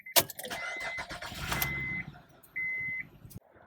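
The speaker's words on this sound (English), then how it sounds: "what we want to do is start the car and then wait till the radiator fan comes on." A Honda Pilot's engine starts with a brief crank and catch, then runs quietly while a couple of steady electronic chime tones sound from the dashboard.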